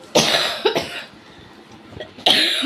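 A person with a persistent cough coughs in separate harsh bursts: two close together at the start, then a pause, then another strong cough near the end. The coughs are loud and close, with no talking.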